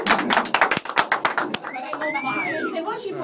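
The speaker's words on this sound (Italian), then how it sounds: "Un applauso per il successo del pomeriggio." Applause at a local radio association's Easter raffle draw: a short burst of close, loud clapping from a small group that stops after about a second and a half, followed by voices talking.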